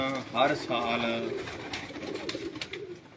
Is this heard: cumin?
no